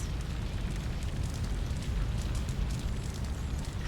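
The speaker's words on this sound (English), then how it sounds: "Heat of the fire is too dangerous" Steady roaring crackle of a house fire in the video game Shadow of Destiny, a dense continuous rumble with faint pops throughout and no speech.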